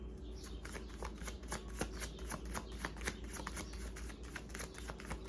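Tarot cards being shuffled by hand, a continuous quiet riffling with rapid irregular flicks and taps, close and soft over a low steady hum.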